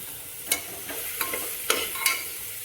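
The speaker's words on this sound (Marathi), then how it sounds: "असं मस्त असं हलवून घेऊयात" A spoon stirs rice with biryani masala and chopped coriander in a pan for Latur-style Nilanga rice, giving several scraping strokes over a faint sizzle, close and clear with no talking.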